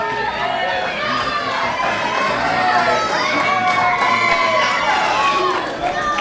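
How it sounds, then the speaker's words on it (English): Crowd at an EWF independent wrestling show in the Riverside Elks Lodge, clapping and cheering continuously with shrill children's shouts mixed in, a steady loud roar throughout. "Now the crowd clapping."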